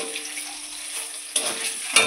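Eggs fry in oil seasoned with turmeric and salt for egg curry, crackling and sizzling continuously up close, with two sharper spitting pops.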